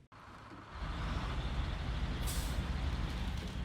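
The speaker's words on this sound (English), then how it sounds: "The GMC MH9500 is the first truck you start out." The air brakes on a GMC MH9500 truck in SnowRunner release with a loud, steady broadband hiss lasting several seconds. A brighter burst of air flares midway, and there is no talking.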